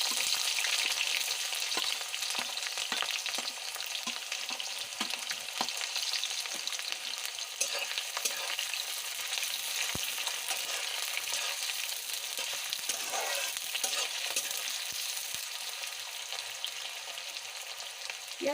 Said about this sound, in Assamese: তাৰপিছত কাটি থৈ দিয়া পিঁয়াজখিনি দি দিছোঁ।